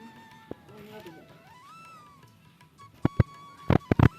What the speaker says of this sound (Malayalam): ഇതാണ് കേട്ടോ ഇവിടുത്തെ നല്ലൊരു ക്യൂട്ട് പൂച്ച